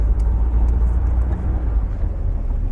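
A £1000 Triumph Spitfire on the move, its engine giving a loud, steady low rumble with road noise throughout and no talking.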